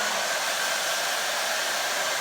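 A hair dryer blowing steadily during an at-home salon-style blowout, a loud, close, unbroken rushing whir with a faint tonal whine and no talking.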